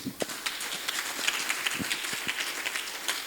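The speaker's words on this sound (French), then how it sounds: "Est-ce que nous pouvons applaudir?" Scattered, fairly quiet audience clapping at a school-guide launch ceremony, with sparse individual claps spread across a soft continuous crowd noise.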